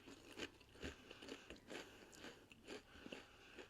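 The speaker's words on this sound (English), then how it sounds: "Right now I'm eating Pringles Texas barbecue." Pringles Texas barbecue potato chips being eaten: close, quiet crunchy bites and chewing in an irregular rhythm, with no talking.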